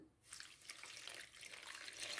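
Lukewarm water is poured into a cooking bowl in a continuous splashing trickle, close and fairly loud, starting after a brief pause.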